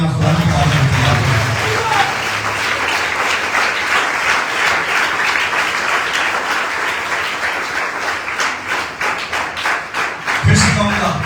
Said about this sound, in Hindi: जोरदार तालियां खुदा की तारीफ के लिए